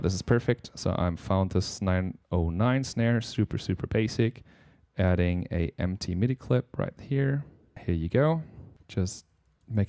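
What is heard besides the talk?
No distinct noise like a dog, phone or traffic.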